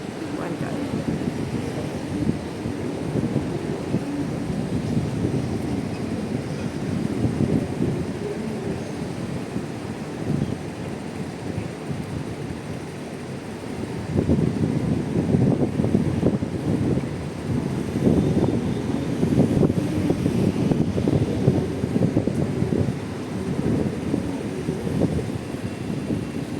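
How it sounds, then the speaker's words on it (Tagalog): Strong wind roars outdoors at the Hong Kong waterfront by the Exhibition Centre, a continuous low rumbling buffet against the microphone that rises in intensity midway, with faint talk beneath. "Mahangin, grabe."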